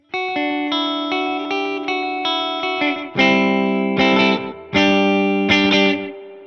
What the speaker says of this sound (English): a Fender Deluxe Reverb and echo effects that's more or less set to slapback and a spring reverb